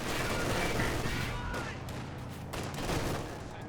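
German Grenadier infantry firing rifles in the Company of Heroes video game, a dense crackle of overlapping gunshots in a continuous battle din with scattered louder reports, while a commentator talks over the top.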